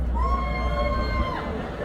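Conference audience at a Caribbean travel event shouting and cheering as island destinations are called, a dense crowd roar with a rising voice-like tone across the whole stretch before it drops off.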